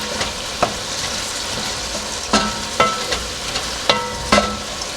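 Meat and spices for harira soup sizzle steadily in a hot pot, with a constant close frying hiss broken by occasional clacks of stirring.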